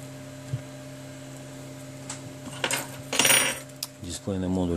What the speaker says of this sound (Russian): Убираем остатки двустороннего скотча.